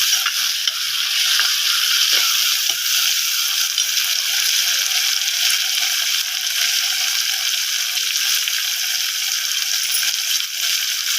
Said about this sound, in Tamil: வெங்காயமும் போட்டு வதங்கிட்டுக்கு கட் பண்ணி வச்சுட்டு தக்காளி போட்டு வதக்கணும்